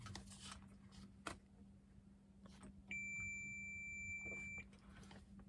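A multimeter gives a continuity-test beep, a single steady electronic tone lasting under two seconds, clear over a low hum during repair work on a Kubota ZD21 mower seat, with faint handling clicks before it.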